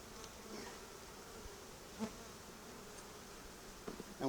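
Steady buzzing of honeybees during a honey harvest fills the background, a continuous low drone with a few brief louder passes near the end.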